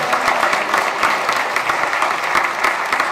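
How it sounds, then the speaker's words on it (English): An audience applauds a singer, Devin Crowley, at a holiday service, the dense clapping steady and moderately loud throughout with no voices. "Give another round of applause for Devin."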